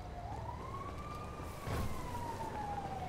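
An ambulance siren in GTA 5 sweeps in one long, slow rising and falling wail, steady and fairly loud against a dense background of traffic-like noise.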